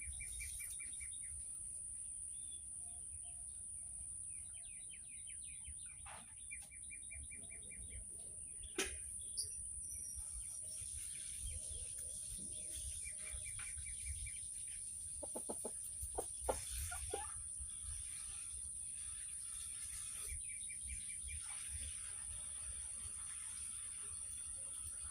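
Birds call and chirp outdoors against a steady high whine and low background hum, with a few sharper calls scattered through.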